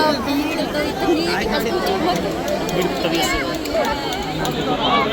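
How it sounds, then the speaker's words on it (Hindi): Dense crowd chatter at a busy Hindu temple at night, a steady wash of many overlapping voices close around with no pauses. "कहीं पर भी चले जाओ सब जगह भीड़"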